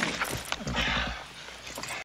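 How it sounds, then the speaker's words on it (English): Horse sounds from a 1976 western film scene, with snorting and hoof-like thumps and rustling at moderate level under a noisy, busy soundtrack. "What are you doing to the poor horse?"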